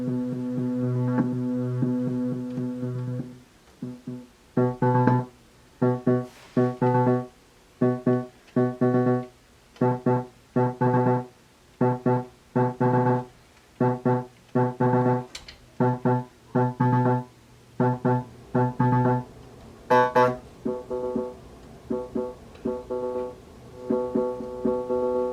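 A sine wave passes through a Eurorack tube VCA, a steady harmonic hum that is soon chopped into a fast, rhythmic sequence of pulsing gated notes with slight clicks, quiet and alone throughout.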